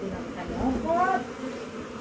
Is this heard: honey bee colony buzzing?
yes